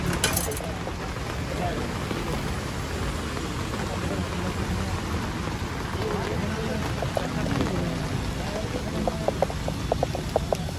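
Steady rain hiss fills the background throughout at a kachori stall, with a few faint drips near the end, under nearby voices talking.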